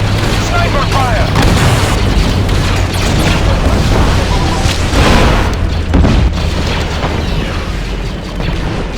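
Dense Star Wars Battlefront 2 battlefield din with sniper fire, heavy booms and blasts rolling over one another almost without pause, loud and close, with a voice speaking over the chaos.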